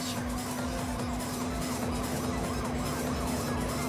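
Unmarked police car siren in the driving video game THE 逃走ハイウェイ, a steady electronic siren with a droning tone under continuous engine and road noise, loud and constant throughout.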